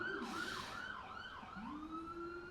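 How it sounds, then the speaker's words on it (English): A wailing emergency siren sweeps up and down in pitch, fairly close and steady throughout, with no voices. "Siren. Oh, good."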